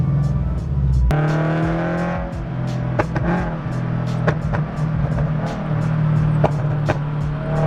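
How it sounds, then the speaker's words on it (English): A car's engine running close by with throttle feathered, a low steady drone broken by sharp intermittent pops and crackles from the exhaust at irregular intervals. "Every time you feather it, it's a pop."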